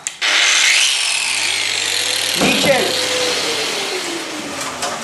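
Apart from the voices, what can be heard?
wall chaser with vacuum cleaner running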